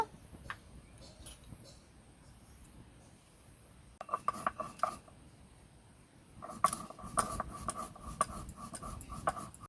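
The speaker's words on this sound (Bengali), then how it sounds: "এখন আমি গোলমরিচটাকে গুঁড়ো করে নেব" Black peppercorns are ground to powder for masala potatoes, first with faint scattered scrapes, then bursts of rapid gritty rasping and rubbing strokes that grow louder and more continuous.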